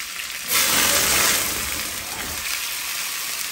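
Food fries in hot oil in a pan, giving a loud, dense, continuous sizzle that swells sharply for about a second, then settles to a steady hiss, close and without talk.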